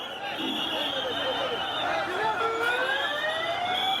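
An ambulance siren wails through a crowded street rally in Dhaka, its rising tones steady and fairly close above the dense murmur of the crowd for the whole stretch.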